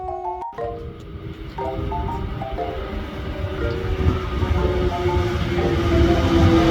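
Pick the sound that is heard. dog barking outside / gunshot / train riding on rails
train riding on rails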